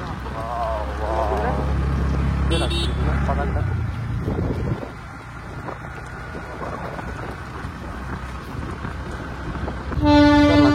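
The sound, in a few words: Darjeeling toy train passing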